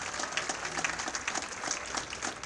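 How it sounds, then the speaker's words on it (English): Audience applause at a University of Maine Sports Hall of Fame ceremony, a steady patter of many hands clapping, fairly faint and even throughout. "Round of applause for Anthony"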